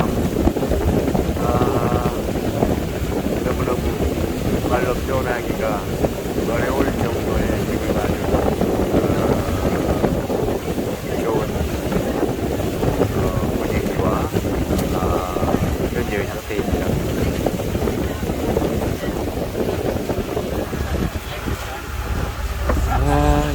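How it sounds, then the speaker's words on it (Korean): Strong wind buffeting the microphone on a riverboat travelling from Bokeo to Luang Prabang in Laos, a constant roaring rush over the engine and water, with people talking and laughing underneath throughout. "기분 좋은 이 바람"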